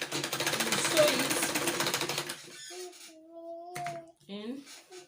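A sewing machine stitches a wrap peplum blouse seam, a dense steady mechanical whir running close and loud for about two seconds before stopping, followed by quieter tonal sounds and handling noise with no voice.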